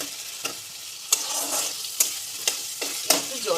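Capsicum and onion fry with spices in a hot pan, a steady bright sizzle broken by about six rhythmic spoon scrapes as the mixture is stirred, close and loud.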